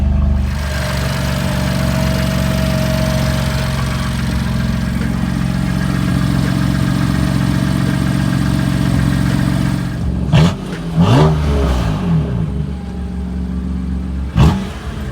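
A BMW M4 Competition F82 engine running loudly at a steady deep idle, then a few short revs near the end, recorded close with no talking.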